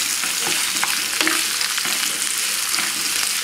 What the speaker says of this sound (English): So we'll saute this